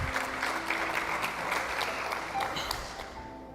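A church congregation claps together in sustained, dense applause that fills the room and fades slightly toward the end.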